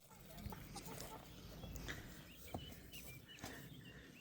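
A small hen clucks faintly in short, scattered calls against an outdoor background with occasional knocks and rustles.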